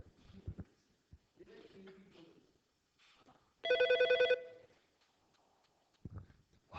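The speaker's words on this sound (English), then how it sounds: "I love the sound of that phone ringing." A single short telephone ring sounds clearly between scattered quiet talking and faint background noise.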